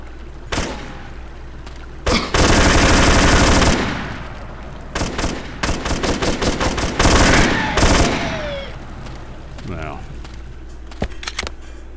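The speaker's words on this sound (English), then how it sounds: "We got some machine gunners too, right across that damn wall right there." Machine gun fire in the video game Black Ops 2, with loud sustained bursts and rapid clusters of gunshots alongside other battle sounds, and a voice talking over parts of it.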